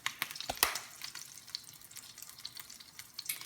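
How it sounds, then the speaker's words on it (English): French toast frying in a pan on low heat as the bread is turned, giving a steady soft sizzle with a few brief clatters near the start, fairly faint and with no talk. "And you just keep turning your bread around like that."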